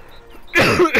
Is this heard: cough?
yes